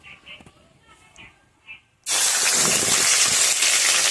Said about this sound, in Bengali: এই মশলাটা কষে নেব